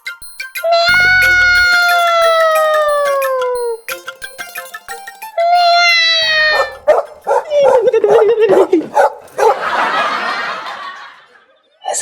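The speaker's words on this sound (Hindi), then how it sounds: "ये कुत्तों को रात में नींद ना आती है?" Dogs bark and howl at night in a comedy sketch setting, with long, falling, wavering whines followed by a burst of short, sharp barks and yips, loud and close, with a rough, noisy outburst near the end.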